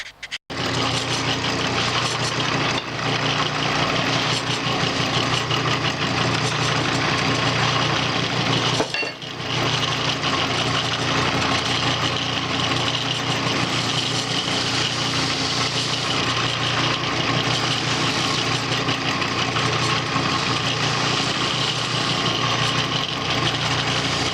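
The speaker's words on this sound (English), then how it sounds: "finish this up with a little bit of sanding from 80 to 400" A loud, steady mechanical drone of a spinning lathe with a broadband abrasive hiss of sanding a wooden box, 80 to 400 grit, continuous throughout with one brief dip.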